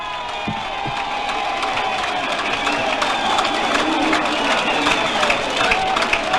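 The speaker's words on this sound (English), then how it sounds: "Listen to this crowd." Racecourse crowd cheering and applauding at the finish of the 1972 Melbourne Cup, a broad, sustained roar of many voices and claps that swells slightly over several seconds, with scattered shouts rising out of the mass.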